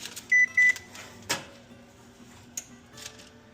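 An oven control panel beeps while the cook time is set for baking chocolate chip cookies, two short electronic beeps followed by soft clicks and taps in a quiet kitchen.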